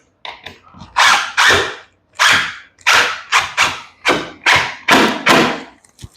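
A power driver fastens barn door hardware into metal framing in short bursts, about nine loud, close, rattling clicks with brief gaps between them, and no talking.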